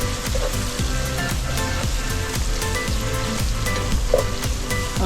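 Onions sizzling loudly in a hot pan, a dense, continuous crackle with stirring strokes rising through it, close and steady from start to finish.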